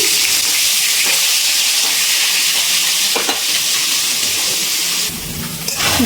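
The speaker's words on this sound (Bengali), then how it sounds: "এবার এক এক করে তেলের মধ্যে ডিমগুলো দিয়ে ভেজে নিচ্ছি" Duck eggs frying one by one in hot oil in a pan, a loud continuous close sizzle and crackle that holds steady throughout with a brief change near the end.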